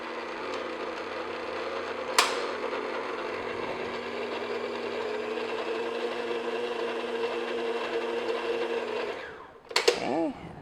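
Electric mixer steadily beating flour mixture into coffee cake batter, a continuous loud whirring motor hum with a brief clatter early on and a pause near the end, followed by a short clink.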